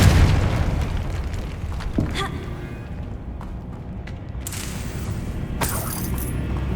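A Confringo fire spell explodes in Hogwarts Legacy, a loud booming blast at the start followed by sharp crackling bursts and a rumbling fiery tail that swells again near the end.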